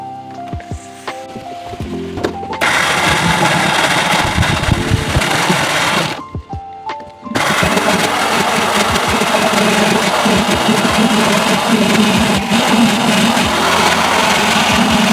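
A wet grinder churns green chicken masala paste in a home kitchen, a loud steady mechanical whir with a rumbling hum that runs continuously, briefly dropping out for a second midway before resuming at full strength.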